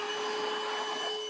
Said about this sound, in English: And now we're blowing air.